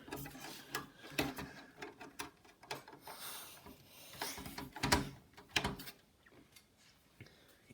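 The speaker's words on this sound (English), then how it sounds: "Now I can reinstall these screws up here." Screws are driven into a computer case by hand, producing close, quiet ratcheting clicks and metallic scrapes in irregular bursts, with short pauses between turns.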